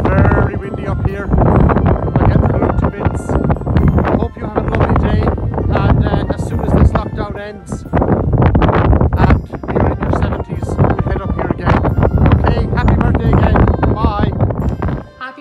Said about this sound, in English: It's very windy up here.